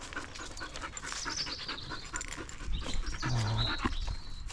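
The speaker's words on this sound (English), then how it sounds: "We've got a really nice German Shepherd that you'll see on my channel called Rogue." A German Shepherd pants steadily and close by, with quick, rhythmic breaths over a busy outdoor background.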